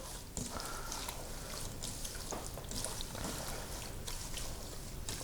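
Water poured onto oregano for hydro distillation: a quiet, continuous splashing pour with a fine trickling texture that stays even throughout, close by, with no talking.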